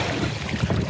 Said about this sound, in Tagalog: Medyo mahangin ng kaunti at medyo maalon-alon pero okay lang.